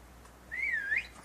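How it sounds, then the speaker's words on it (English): A person whistles a single short, clear rising-and-falling tune lasting about half a second, close and alone, with no talk over it. "it's a nice whistle from my nephew"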